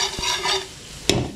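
Garlic frying in butter in a pan for a mixed seafood dish, a steady soft sizzle with a couple of sharp stirring knocks, close and alone without talk.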